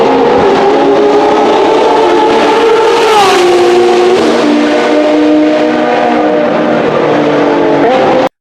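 A hybrid supercar screams on a racetrack, its engine note sustained and loud, pitching up and down through gear changes over several seconds with no break.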